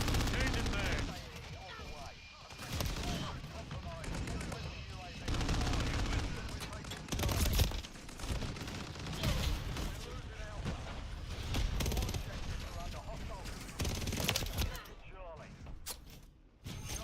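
Rapid gunfire in Modern Warfare III multiplayer on the small Shipment map: loud, continuous bursts of automatic fire and booming shots, with a player's voice talking over the battle.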